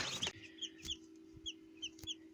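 Newly hatched baby chicks peep in short, high, repeated chirps at a quiet, moderate distance, with a few soft knocks and a low steady hum behind them.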